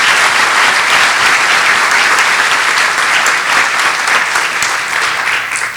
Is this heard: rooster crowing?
no